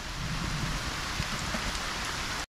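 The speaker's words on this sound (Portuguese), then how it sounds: "Vamos começar uma pescaria com chuva, rapaziada." Steady rain falls throughout during a rainy fishing outing, a dense, even hiss of drops on surfaces with no pauses until it cuts off abruptly near the end.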